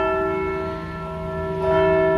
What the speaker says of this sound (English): Oh, you hear the bell? Wow, so loud. It's coming from that church right there.